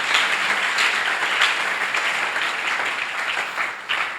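A church congregation applauds loudly and continuously, a dense close wash of many hands clapping that holds steady throughout and eases slightly near the end.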